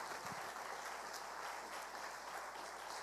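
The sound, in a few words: congregation applause in church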